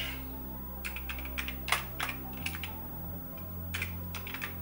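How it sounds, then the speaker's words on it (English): Fingers tap on a computer keyboard during a Vampire 600 V2 accelerator installation, irregular bursts of quiet clicks with short pauses, close and alone over a low steady hum. "My typing is really bad, by the way, I apologize."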